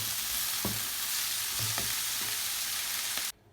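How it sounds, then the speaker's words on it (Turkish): A filling for pizza-dough açma sizzles steadily in a pan while a utensil scrapes and stirs it in a few soft strokes, close and fairly quiet, ending abruptly. "Şöyle güzelce karıştırıyoruz."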